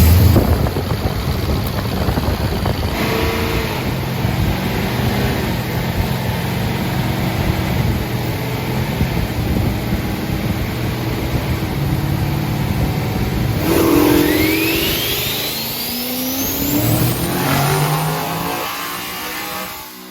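A single-turbo diesel work truck making over 1,000 horsepower roars loudly on a dyno pull, holding a heavy drone before a rising, whistling turbo-spooled rev climbs near the end, with no talk.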